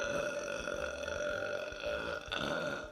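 One long, loud, guttural burp rumbles close up for about three seconds, with a rough, throaty tone that sustains throughout and swells slightly near the end.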